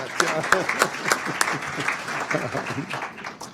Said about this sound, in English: I've got to give her another applause